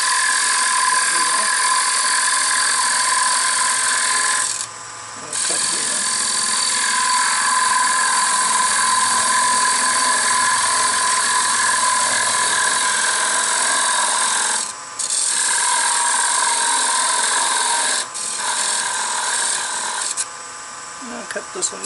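A power tool cutting into wooden toy wheels in a workshop, a loud continuous buzzing grind that runs steadily with a few brief pauses; speech is likely mixed in.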